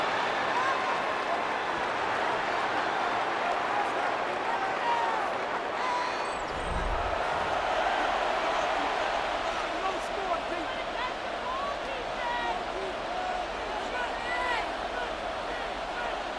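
Stadium crowd noise from an American football video game, a steady roar of cheering that swells as third down approaches, running continuously under commentary.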